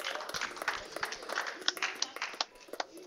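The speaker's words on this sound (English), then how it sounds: "Have a round of applause, please." Scattered audience clapping at the Elite ProAm grand final, a sparse patter of hands of moderate loudness without talk, rising and thinning over a few seconds.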